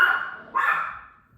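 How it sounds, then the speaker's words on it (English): A dog barks twice, with sharp, fairly close barks and a short gap between them. It carries clearly over an otherwise quiet room during a home yoga sun salutation practice. "excuse the dog"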